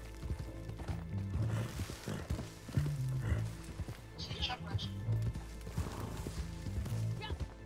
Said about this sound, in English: I'm on my horse.